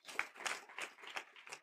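Applause for young participants at a youth hackathon's final presentation, a faint, short burst of scattered clapping with a few separate claps.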